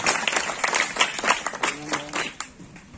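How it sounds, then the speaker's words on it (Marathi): An audience at a school award ceremony claps briskly in a rhythmic scout clap, with quick bursts of hand claps at close range and a voice briefly audible underneath. "स्काउट क्लॅप गो टाळ्या वाजत राहिल्या पाहिजे।"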